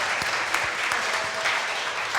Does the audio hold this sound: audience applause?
yes